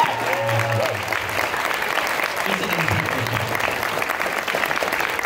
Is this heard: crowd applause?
yes